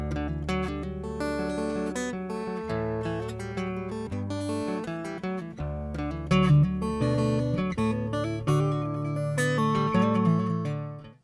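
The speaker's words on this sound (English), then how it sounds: "So here's the sound of the guitar pickup only." Acoustic guitar heard through its pickup alone with the mic track and reverb switched off, a continuous strummed and picked passage that sounds direct, close and somewhat dull, with no voices.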